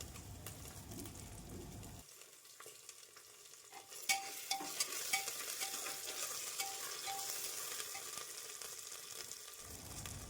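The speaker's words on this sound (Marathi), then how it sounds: "आलं लसूण पेस्टसुद्धा चांगली मिक्स करून घ्यायची." Ginger garlic paste stirred into golden fried onions in a pan, a bright sizzle with a run of light spatula taps and scrapes, close and steady with no talking.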